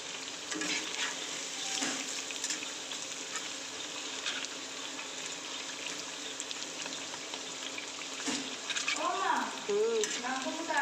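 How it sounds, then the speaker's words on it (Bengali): Jute leaf fritters frying in hot oil make a continuous close sizzle and crackle, with a few stirring scrapes, and a brief voice-like sound near the end. "পাট পাতায় বড়গুলো লাল লাল করে ভাজলে পরে খেতে বেশ মুচমুচে হয়"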